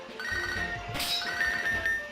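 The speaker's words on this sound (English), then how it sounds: "I'll tell you after this phone call from Joey." The Pokegear in Pokemon HeartGold plays its incoming-call ringtone, a bright electronic chime that repeats over quiet game background sound.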